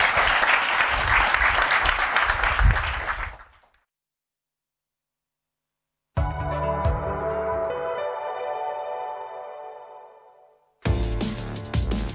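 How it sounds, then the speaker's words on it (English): Live audience applause after a startup pitch at a finale event, dense clapping that cuts off abruptly into silence, followed by a bright tonal musical sting that rings out and another burst of sound at the end. "Got a round of applause and move on to our second pitch."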